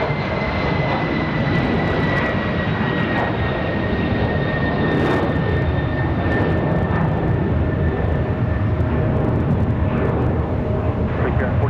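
A CRJ regional jet at Raleigh-Durham airport on a windy day, its engines giving a loud, steady roar with high whining tones that holds for the whole stretch, with faint radio chatter underneath.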